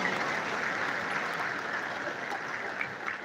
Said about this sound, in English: Please, distinguished ladies and gentlemen, another round of applause for our guest lecturer.